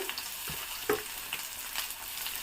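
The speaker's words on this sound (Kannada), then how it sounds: "ಇದಕ್ಕೆ ಸ್ವಲ್ಪ ಸಾಸಿವೆ ಹಾಕೊತ ಇದ್ದೀನಿ ಸ್ವಲ್ಪ ಜೀರಿಗೆ ಮಿಕ್ಸ್ ಆಗಿದೆ" Mustard seeds, cumin, curry leaves and onion fry in hot oil for a fish curry, giving a steady close sizzle with scattered small pops and crackles, alone without talk.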